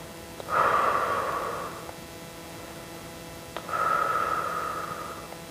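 A person takes two slow, audible breaths during a stretching exercise, each a drawn-out airy exhale or inhale of about a second and a half, close and alone against a quiet background.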